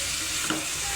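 A brief stir of tomatoes and drumsticks simmering in hot tomato juice in a small pot, a soft scrape over a steady bubbling sizzle.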